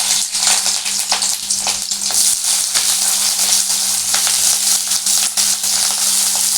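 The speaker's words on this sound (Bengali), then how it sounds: "এটাকে আমি লাল করে ভেজে নেব।" Onions frying in oil in a wok until browned, a loud, dense, steady sizzle and crackle heard up close with faint stirring scrapes underneath.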